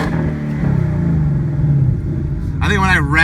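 A 2018 Ford Mustang GT engine idles with a steady low rumble, then revs sharply near the end, its pitch rising quickly, while people talk over it.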